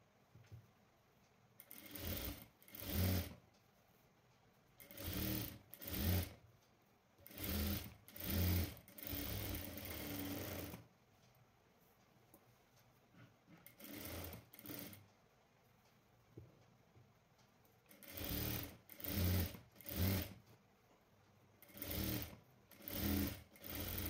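A sewing machine stitches a blouse lining in short, rapid bursts of whirring, separated by brief pauses, close and alone with no talk.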